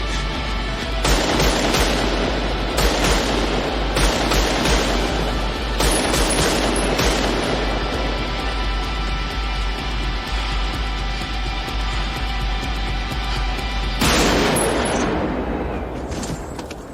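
Sustained automatic gunfire and heavy bursts of shots from the Heat street shootout film scene, loud and dense almost throughout, with especially intense volleys in several stretches and no talk over it.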